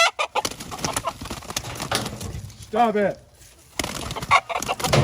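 Roosters fight, clucking and squawking in a brief noisy scuffle, with a short harmonic rooster cry in the middle and a voice speaking over the commotion.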